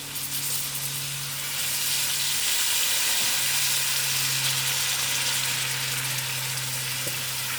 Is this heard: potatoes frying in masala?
yes